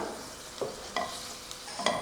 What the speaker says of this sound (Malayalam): എണ്ണ ഒഴിച്ചിട്ടുണ്ട് നമുക്കതിലേക്ക് രണ്ട് വറ്റൽമുളക് ചെറുതായിട്ട് അരിഞ്ഞിട്ട് കൊടുക്കാം ഇതൊന്ന് മൂപ്പിച്ചെടുക്കാം